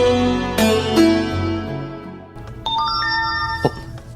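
A phone message notification tone chimes as a short series of bright, clear ding-dong tones, loud and close, with no voices over it.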